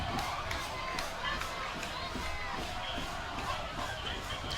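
Crowd noise at a high school football game between Rossview and Northeast, a broad, fairly faint murmur and cheer from the stands with a commentator talking over it.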